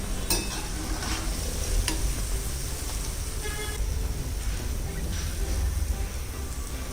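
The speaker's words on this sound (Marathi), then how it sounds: "अशाच बाकीच्याही तळून घेऊया आपण।" Shakarpara, crispy sweet dough pieces, deep-frying in oil in a home kitchen, giving a steady close sizzle and bubbling with a few sharp clinks along the way.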